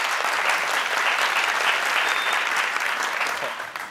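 Studio audience on a Persian-language Family Feud style game show breaks into steady, loud applause that fills the whole stretch, dense clapping holding evenly before easing slightly at the end.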